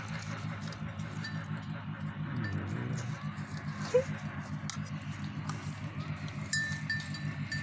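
Goats crowd at a fence while being fed, with a bell clinking, feed pattering and animals shuffling close by, plus a sharp knock midway.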